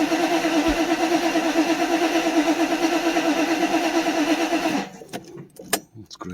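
The starter cranks a 1993 Mercedes 500E V8 with its injectors unplugged, giving a loud, rhythmic churning for about five seconds without the engine catching. It then cuts off, leaving only a few faint clicks and knocks.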